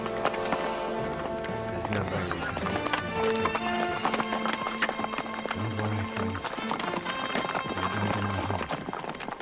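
Several horses clatter along at a quick pace, hooves drumming steadily beneath swelling music, with an occasional neigh rising above the rhythm.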